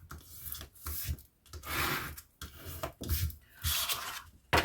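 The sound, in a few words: burnishing glued paper down by rubbing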